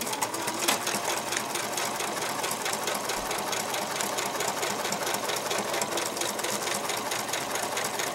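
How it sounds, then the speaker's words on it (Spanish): Sewing machine set to straight stitch, setting 3, running a seam on a handmade bag made from juice pouches; steady, continuous close mechanical whirring and rapid needle ticking throughout, with no talk. "voy a poner mi máquina de coser en línea recta, en el número 3. Y aquí voy a pasarle una costura."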